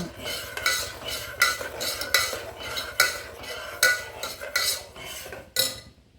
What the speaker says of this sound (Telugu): ఇట్లానే కలుపుతూ ఉండాలంట అది ఎప్పుడు చిక్కగా అవుతుంది